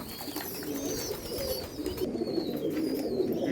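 An Andhra Fulsira pigeon, a ringed male, coos steadily in low rolling phrases close by, with faint chirps of other birds higher up in the background throughout.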